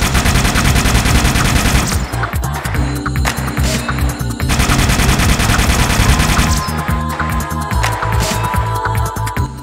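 The Needler from Halo: Combat Evolved fires continuously at a rapid rate, a loud, dense stream of crackling, pulsing shots with short tonal whines, broken by a brief pause and then resuming.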